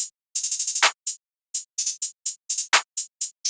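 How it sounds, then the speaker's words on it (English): Basic drum-kit clap pattern in a trap beat: sharp dry claps in quick clusters and spaced hits, two fuller accented claps among them, repeating alone with no talk. "it's a basic clap pattern which sounds like this"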